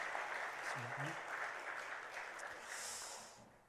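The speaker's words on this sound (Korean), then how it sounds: "우리 박수로 환영하도록 하겠습니다" Church congregation applauds to welcome a newly installed elder during a Sunday morning service, a soft, distant patter of many hands that gently fades toward the end, with a brief voice murmuring near the start.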